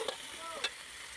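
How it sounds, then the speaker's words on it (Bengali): Soybean chunks fry with onions in a pan, giving a steady broadband sizzle with two short stirring scrapes near the start and middle. "এই যে সয়াবিনগুলো হালকা পেঁয়াজের সঙ্গে ভাজছি"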